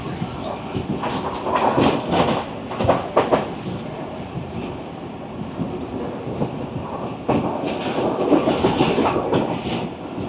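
Rawal Express train rolling through Taraki railway station, steady rumble and clickety-clack of wheels on rails with surging bursts, close and loud throughout.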